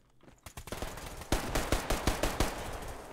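Rapid bursts of pistol gunfire in the video game Survarium, a dense run of sharp close shots, most of them packed between about 1.3 and 2.5 seconds, with no talking.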